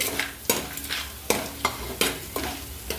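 Onions frying for chicken biryani are stirred briskly in a pot, with a sizzling hiss under repeated loud scraping strokes of a spoon in a regular rhythm, about seven strokes, close up.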